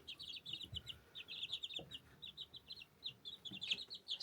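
Young chicks in a brooder bedded with sawdust keep up a steady stream of high, rapid peeping, faint and continuous throughout, with light shuffling underneath and no talking.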